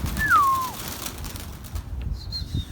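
A single clear descending whistle-like call and faint soft sounds from pigeons arriving at a loft, over quiet outdoor background.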